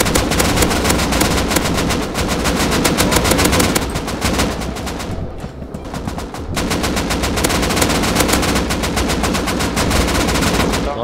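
In the video game Rust, loud rapid automatic gunfire fires at a helicopter in dense sustained bursts, with a brief lull in the middle before the shooting picks up again.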